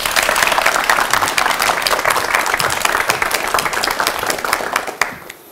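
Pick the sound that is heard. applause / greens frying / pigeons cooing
applause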